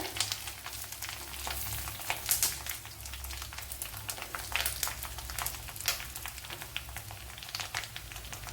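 Curry leaves crackle and sizzle in hot oil in a pan, with a continuous bright frying hiss broken by dense pops and spits at close range.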